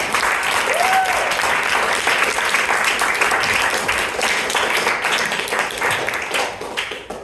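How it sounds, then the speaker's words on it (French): The audience at an improv show applauds loudly and steadily, with a thick wash of clapping that tapers off toward the end. "on peut les applaudissements très fort."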